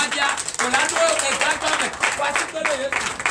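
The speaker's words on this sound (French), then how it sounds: "Donnez l'acclamation à Jésus" Church congregation at a Sunday worship service clapping in acclamation, rhythmic bursts of claps mixed with voices and shouting, dense and close throughout.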